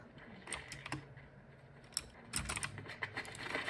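A computer keyboard clicks in quick irregular bursts of keystrokes during a Fortnite match, fairly close but quiet, with brief gaps between flurries.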